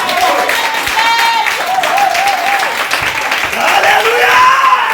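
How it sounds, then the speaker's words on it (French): A church congregation at a French-speaking revival service claps and cheers together, a dense, sustained wash of applause with voices rising through it, steady and loud from start to finish. "est-ce que tu peux acclamer Jésus de Nazareth?"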